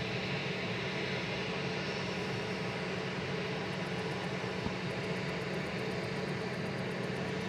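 An Airbus A220 on the flight from Zurich at Manchester Airport, a loud continuous engine roar with broad hiss and a steady low drone, alone and unbroken.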